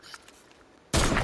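A shotgun fires in the Fortnite video game: a single loud, close blast bursts in abruptly after a quiet moment and rings out to the end.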